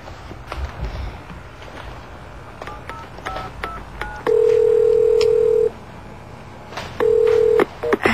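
Telephone keypad tones on a phone being dialed, a quick series of short beeps followed by longer steady tones, close and clear with no talking over them.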